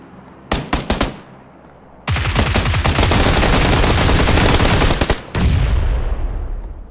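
Loud gunfire in the battle game PUBG Lite: a short burst of rapid shots, then a long, dense stretch of sustained automatic fire with overlapping bursts that cuts off and resumes, all close and with no talking.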